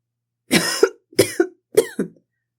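Three loud, close coughs in quick succession, each a sharp double burst, with silence around them.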